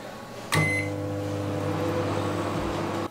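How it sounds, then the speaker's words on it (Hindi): A microwave oven runs on its own with a steady loud hum and whirr, heating oats in water after a click and short beep at the start. "अब इसको हम माइक्रोवेव में रखेंगे 5 मिनट्स के लिए"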